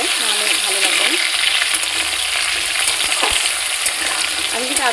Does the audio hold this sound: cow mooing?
no